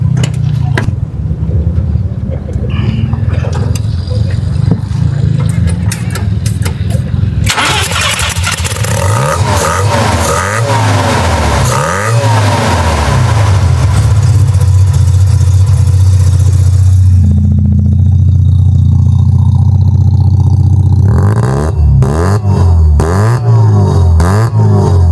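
A 1978 Mazda Savanna RX-7 with a 12A rotary engine and Weber carburetor starts and idles roughly, then revs hard in repeated loud rising and falling bursts, close and dominant throughout.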